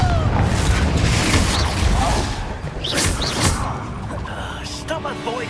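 The Confringo explosive spell in Hogwarts Legacy lands with heavy booms and thuds inside a loud, continuous battle mix of whooshes and impacts, with voices shouting in places.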